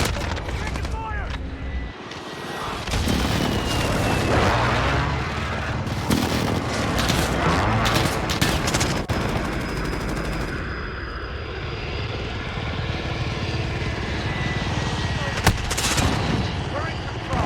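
Gunfire in Call of Duty: Modern Warfare during a hardpoint match, loud machine-gun bursts and single shots crackling almost continuously, with aircraft noise overhead and voices calling out over the battle.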